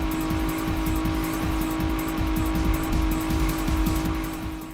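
Car chase in an Iranian video game, a helicopter pursuing and firing on the escaping car along a road strewn with giant barrels: a loud, continuous engine drone with rapid rhythmic low thumping throughout, fading slightly at the end, no voices.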